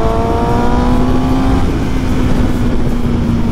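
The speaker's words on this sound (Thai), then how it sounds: "ลองดูอัตราเร่งนะครับขึ้นค่อนข้างไวเร่งปุ๊บเดียว" Suzuki GSX-S 750 motorcycle accelerating on an open road, a loud steady engine roar with a rising whine that shifts pitch as it gears up, close and continuous with wind noise and no talk.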